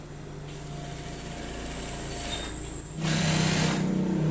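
Sewing machine stitching a strap of bias-cut binding fabric for overalls, a steady mechanical whirr running the whole time and growing louder and faster near the end.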